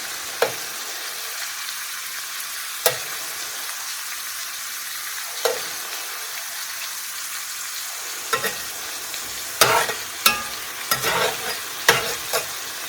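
Pork pieces browning in a pan for chile verde, sizzling steadily and close up, with repeated scraping stirs and clanks of a utensil punctuating the frying hiss; no talking.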